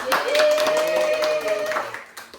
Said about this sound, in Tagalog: Palakpak tayo guys.